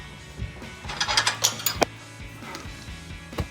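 Ratchet clicking in short bursts while a lock nut is tightened onto a bolt through the support bracket of a Rough Country heavy-duty LED rear bumper on a Jeep Gladiator JT, close and fairly loud, with metallic taps and no talking.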